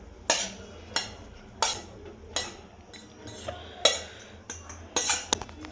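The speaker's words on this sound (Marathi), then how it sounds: "आता हे पूर्णपणे आपण यात मिक्स करून घेणार आहोत." A spoon stirs turmeric and chili into cooled oil for a homemade turmeric pickle, making repeated metallic scrapes and clinks against a steel vessel at an irregular, unhurried rhythm, close up and moderately loud.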